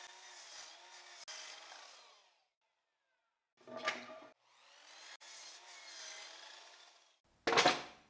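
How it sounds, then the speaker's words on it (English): Hand sawing through a wooden board to cut off a 42-centimetre section, with rasping strokes in two long runs separated by a gap, plus a few sharp knocks and scrapes, fairly faint and close. "Another section of 42 centimeters is also cut separately from the leftover material."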